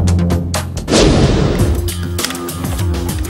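AK-74 assault rifle chambered for 5.45×39 mm fires a loud, close burst that starts about a second in and rings out over steady background music.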